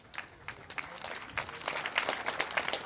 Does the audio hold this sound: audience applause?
yes